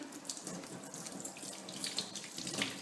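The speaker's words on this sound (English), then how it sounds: "just rinsing them off and washing them a little bit, getting all the goo off of them" Running tap water rinses rubber stamps clean of leftover goo in a sink, a steady close splashing stream that swells slightly as the stamps are moved under it.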